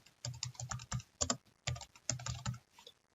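Fingers type text on a computer keyboard in quick, uneven runs of crisp key clicks, close up with short pauses between bursts and no voices.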